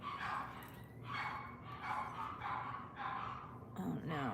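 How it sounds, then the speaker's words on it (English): Dogs howl in long drawn-out, repeated wavering cries from somewhere nearby, each lasting under a second with short gaps, over a steady noisy background. "My dogs are howling over there"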